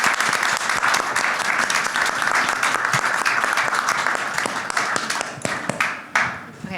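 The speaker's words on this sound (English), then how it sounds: "Let's give them a huge round of applause for Alauna, Joey, Rochelle, and Lainey." At a roundtable event, the audience gives the panelists a big, sustained round of applause, loud and full, with scattered sharper claps, thinning slightly toward the end.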